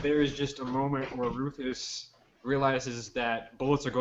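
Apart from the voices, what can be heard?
None of the usual background noises is heard.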